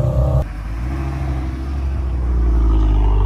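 Supercars such as Porsche, Ferrari, Aston Martin and McLaren at a large car meet, with a loud, close engine rumble that drops briefly then builds into a steady, swelling rev toward the end.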